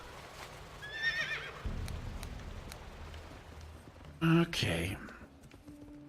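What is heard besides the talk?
horse neighing and hooves in World of Warcraft video game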